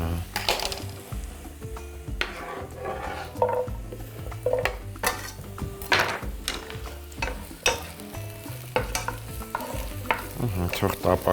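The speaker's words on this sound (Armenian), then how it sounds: "թող տապակվի սոխը զոլավոր կտրատած գազարի հետ" Sliced onion and strips of carrot frying in a pan, a steady sizzle broken by repeated scraping and clanking as a utensil stirs against the metal, close and busy.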